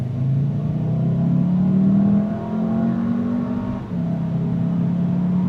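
A Volkswagen car pulls away from a standstill on a test drive. The engine note climbs steadily, then dips briefly at a smooth gear shift before rising again, heard from inside the cabin.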